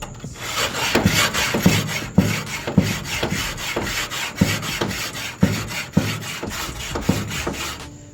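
A grill cleaning block scrubs grime off a grill grate in steady back-and-forth strokes, a loud, close rasping rub with sharp accents at the end of each pass, alone with no talk.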